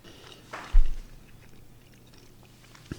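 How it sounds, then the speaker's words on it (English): Someone bites into chicken with hot sauce, close to the mic. One distinct crunch is followed by quieter chewing and a second bite sound at the end. "Okay, chicken time."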